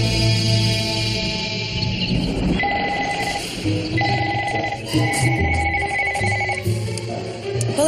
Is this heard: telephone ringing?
yes